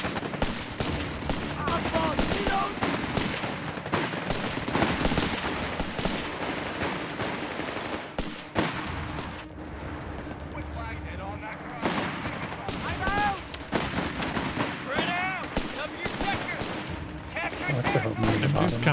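Bursts of machine gun fire and scattered gunshots and explosions from a Company of Heroes 3 multiplayer battle, rattling in repeated volleys throughout while players talk over the combat.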